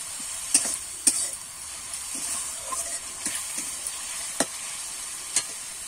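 Tomatoes with salt are stirred in a pan for spinach paneer, with scattered spoon scrapes and taps over a quiet continuous sizzle, no talking.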